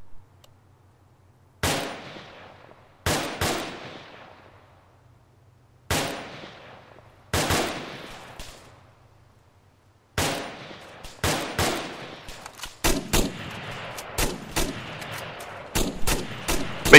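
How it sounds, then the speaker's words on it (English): Gunfire in a military video game squad training session: a series of loud, separate shots and bursts that each ring out with a decaying tail, growing into denser rapid fire toward the end. "Someone was shooting at a civilian unarmed."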